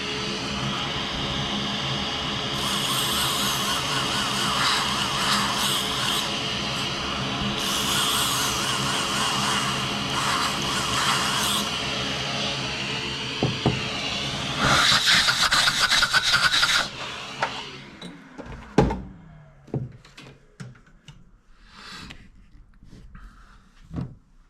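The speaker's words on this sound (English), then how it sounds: "so we're going to bevel out these holes here" Power tool beveling the edges of drilled holes in a Motiv Evoke Hysteria bowling ball, a loud continuous grinding and rasping whine for about sixteen seconds, then stopping into scattered clicks and handling knocks.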